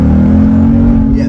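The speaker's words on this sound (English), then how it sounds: "We'll downshift in the second gear on the gas." A Mustang RS3 Phase 2 with a 6-speed manual gearbox downshifts into second and accelerates, a loud, close, steady low engine drone inside the car.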